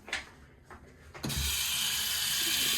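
A hotel bathroom sink tap, likely a Niagara fixture, clicks a few times and then gushes on, running as a steady, close hiss of water.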